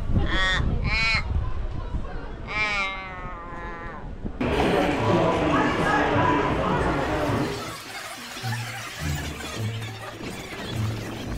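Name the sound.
bird call, likened to a crow crossed with a goat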